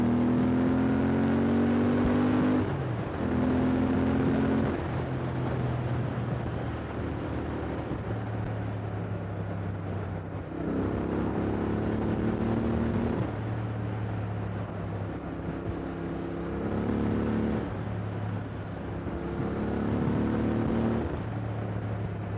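A Royal Enfield Interceptor 650 motorcycle with a Scorpion exhaust accelerates hard through repeated gear changes, the engine note rising and dropping in cycles, loud and close throughout on an autumn ride.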